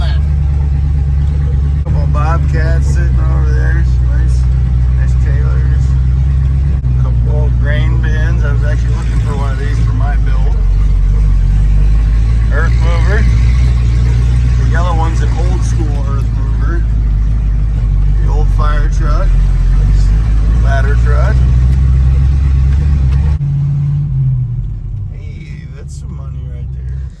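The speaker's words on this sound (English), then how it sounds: "I'm trying to play with the choke because this thing's not running the best" A rough-running old car engine rumbles steadily and loud at close range, its choke being adjusted, with people talking over it almost throughout before the engine note drops near the end.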